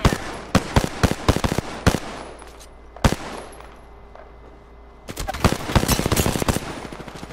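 Gunfire in the video game Apex Legends: rapid cracking shots in rattling bursts, then a lull with a lone shot, then a dense sustained volley near the end, with some speech underneath.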